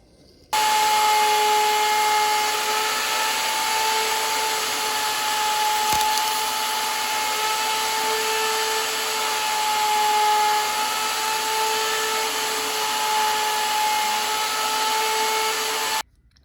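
A power sander whines steadily and loudly on a wooden playing card tray, running continuously at an even pitch for about fifteen seconds before switching off.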